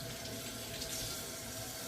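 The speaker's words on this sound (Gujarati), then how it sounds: "તો આમાં આપણું કેટલમાં ગરમ પાણી છે, તો આપણે નાખીશું અત્યારે આમાં ગરમ પાણી." Hot water poured from a kettle into flour to make aloo paratha dough, a steady close splashing pour lasting about two seconds with no talking.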